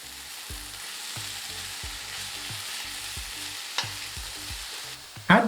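Vegetables for beef japchae fry in a pan with a steady close sizzle, punctuated by regular scraping stirs and a sharper clatter near the end; no voices.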